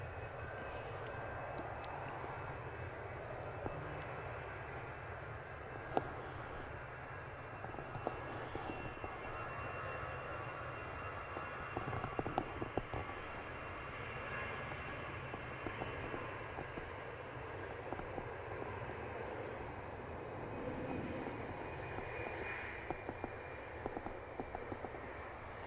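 A Biman airliner on approach to land at Manchester Airport, a distant, steady engine roar that swells slightly over time, heard alone without speech.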